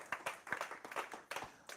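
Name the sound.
audience hand clapping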